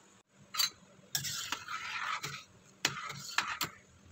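A spoon stirs macaroni soup (sopas) with milk and water as it boils in a pot, giving close, irregular scraping and swishing strokes separated by brief pauses.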